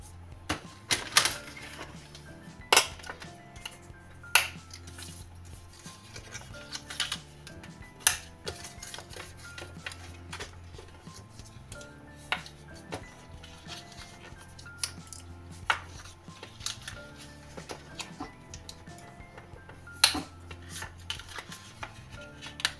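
Paper being creased and folded into small box shapes for a scrapbook Advent calendar wreath. Sharp, close taps and crisp snaps come at irregular intervals over a soft rustle, with no talk.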